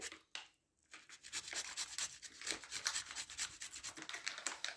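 Green squash rubbed against a grater in close, rapid rasping strokes, a brief pause near the start, then steady scraping continues with no talk.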